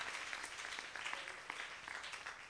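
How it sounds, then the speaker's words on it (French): Crowd applause fills a sermon gathering on married life, a dense, steady wash of clapping from many hands with no talk over it. "Acclamez pour Jésus"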